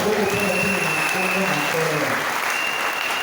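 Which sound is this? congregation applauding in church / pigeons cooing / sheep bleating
congregation applauding in church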